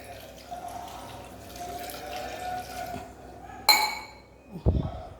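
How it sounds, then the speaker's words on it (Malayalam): Water poured into a pot of drumstick and mango curry: a short splashing pour with clinks of a vessel against the pot, near and loud, ending with a brief clatter after a quiet stretch of background noise. "വെള്ളം ഒഴിച്ച് കൊടുക്കാവേ."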